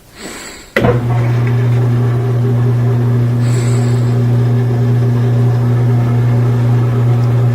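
A washing machine spinning and draining on a test run after a drain repair: a sharp clunk, then a loud, steady motor drone with a tonal whine that holds unchanged.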